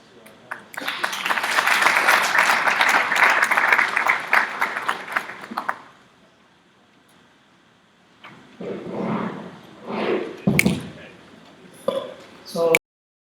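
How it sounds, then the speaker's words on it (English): At a 2014 international HIV research conference, the audience gives the panelists a full round of applause lasting about five seconds, which then cuts off into quiet. A speaker's voice follows, with a few clinks and bumps as people return to their seats. "So, a round of applause to our panelists while they are getting back their seats."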